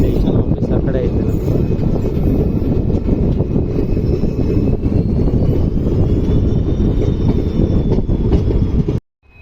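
The Shivamogga–Mysuru daily express pulls out of a small station, a loud, continuous close rumble and clatter of the passing train filling the scene before cutting off abruptly.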